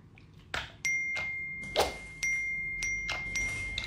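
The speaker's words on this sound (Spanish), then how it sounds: "¿Será que el señor le puede quitar ese sonidito a su teléfono?" A phone notification chime rings out in a few short, bright ding-like tones with ringing overtones, scattered across a few seconds against a quiet room background.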